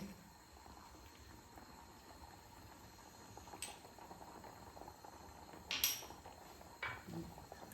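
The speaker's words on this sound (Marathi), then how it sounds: "छान आता उकळी आलेली आहे" Coconut rice (narali bhat) boiling in a pot over a high flame, a steady low bubbling simmer running throughout with a few brief clinks and scrapes of utensils near the end.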